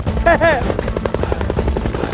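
Rapid, rhythmic chopping of helicopter rotor blades as a helicopter arrives, loud and close, following a short vocal sound at the start, from a Malayalam-dubbed comedy film scene.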